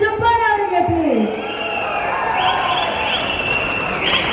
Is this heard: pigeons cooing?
no